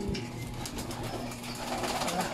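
Racing pigeons cooing in a loft, low soft coos repeating over a steady background murmur of more birds, fairly close.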